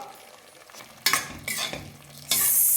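Boiled eggs are stirred into sizzling masala for egg biryani, a close frying hiss broken by a few sharp scraping stirs of a spoon against the pan, with no voices.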